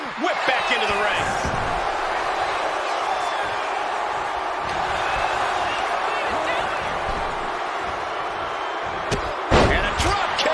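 A wrestler's drop kick lands in the WWE 2K26 wrestling video game, a heavy slam cutting through a loud, steady arena crowd roar near the end.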